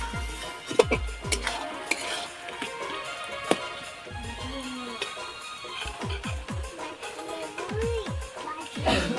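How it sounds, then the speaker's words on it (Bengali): Eggplant sautéing in fish oil in a pan, with a spatula stirring and scraping against the metal in irregular strokes over a soft sizzle, plus a few clinks of utensils. "আরও 5 মিনিট ভালোভাবে বেগুনটাকে কষিয়ে নেব।"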